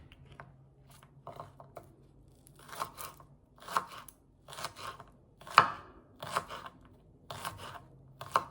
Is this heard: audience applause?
no